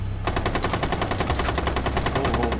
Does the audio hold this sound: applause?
no